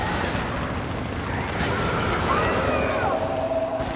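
Punisher gun firing in a shooter video game, a dense continuous burst of rapid gunfire with loud booming impacts sustained throughout, with voices mixed in.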